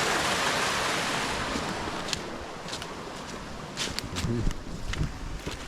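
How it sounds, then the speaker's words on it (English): A river swollen in the rainy season near a village farm, a broad continuous rushing wash of water close by with a few scattered knocks and scrapes near the end. "So this is a flowing river, and it's a rainy season"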